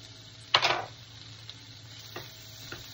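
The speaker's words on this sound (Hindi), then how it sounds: "हल्का सा इसको भून लेते हैं" Finely chopped garlic, ginger and green chilli sizzle gently in melted butter in a pan, one sharp scrape of a spatula followed by a few lighter taps over a quiet steady fry, no talking.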